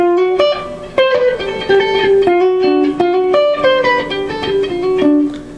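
A guitar is picked note by note with strings left ringing, each note sustaining and overlapping the next in a steady, clear melodic line.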